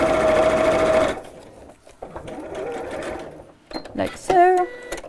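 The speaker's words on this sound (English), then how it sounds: "just sew straight down the centre of the zip tape." Sewing machine stitching down the centre of zip tape on fabric, a loud rapid buzzing run for about a second, followed by quieter handling and speech.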